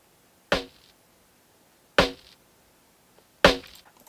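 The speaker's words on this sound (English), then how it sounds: "so you get a little bit of a more gritty sound from the snare" Three sharp, gritty snare drum hits processed with a bit-crushing effect and lows cut by EQ, evenly spaced about one and a half seconds apart, each with a short crunchy decay into silence.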